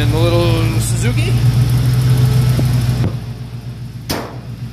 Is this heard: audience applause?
no